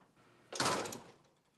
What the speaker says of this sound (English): Well, that was a loud slam.